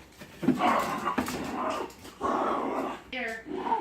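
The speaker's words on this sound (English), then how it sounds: "The dogs are playing." Dogs growl, whine and yip as they play nearby, loud sustained vocal bursts with a brief higher whimper near the end.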